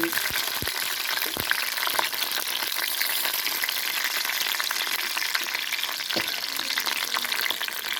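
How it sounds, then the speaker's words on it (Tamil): Dried red chillies and garlic fry in a hot kadai, giving a steady, loud, dense sizzle throughout with a few faint stirring knocks. "இப்போ காஞ்சி மிளகாய் போடணும் பூண்டு"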